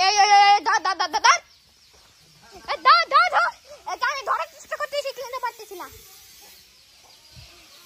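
Backyard chickens squawk and cluck in loud, agitated bursts while someone chases them. A rapid run of sharp calls comes first, then a looser stretch of squawks that thins out toward the end.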